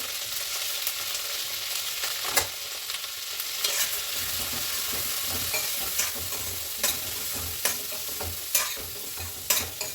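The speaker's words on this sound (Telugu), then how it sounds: "ఇవన్నీ ఇట్లా తాలింపు బాగా వేసుకొని వేయించుకోవాలి" A tempering of cumin, chana dal and urad dal fries in hot oil, making a close, steady sizzle broken by scattered sharp clicks and pops from stirring, with no voices.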